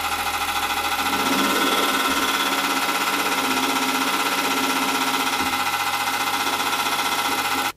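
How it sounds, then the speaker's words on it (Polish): A turbocharged sedan's engine idles steadily with a rapid, regular ticking knock, likely from the valve lifters, running through it, loud and close, unbroken for the whole stretch. "silnik zauważalnie stuka na wolnych obrotach"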